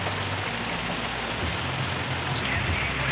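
Steady rain falling on surfaces outdoors, a dense even hiss of drops continuing throughout, close and fairly loud with no voices.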